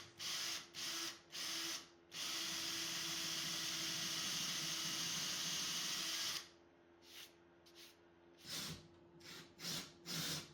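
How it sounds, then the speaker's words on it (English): A power drill bores two holes for a wall mounting plate in a workshop, loud sustained whine for several seconds after short bursts, then several brief trigger pulses, with no talking. "I drilled 2 holes to fit the mounting plate"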